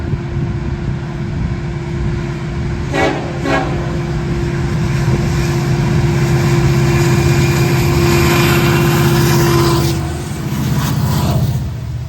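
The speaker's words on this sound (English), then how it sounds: "The final train at Denfield will be Q122, an intermodal/rack train going from Homewood," A CN intermodal and rack freight train rolls past, a loud continuous rumble of wheels and cars with a steady low drone and a few short horn blasts partway through, close and without talk.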